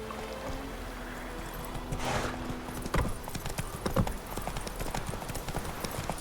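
Roach, Geralt's horse in The Witcher 3, gallops with steady rapid hoofbeats close by, a snort or whinny rising briefly partway through, with no one talking.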